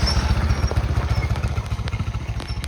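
A motorbike rides over a rough, rocky off-road track near Pokhara, its engine putting out a close, pulsing low throb with rattling and clattering bumps throughout.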